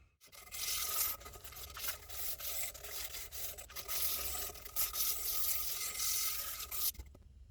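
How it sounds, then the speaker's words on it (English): Continuous, loud abrasive sanding on a wooden guitar body, a steady scratchy rasp with small surges and dips, stopping briefly near the end. "We'll do some sanding around this baby off."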